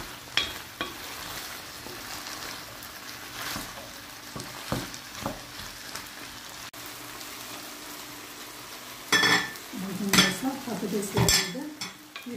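Chicken skin and vegetables fry in a pan for a chicken sauté, giving a steady broadband sizzle throughout with scattered stirring clicks and pan scrapes, then louder bursts of utensil clatter and stirring near the end.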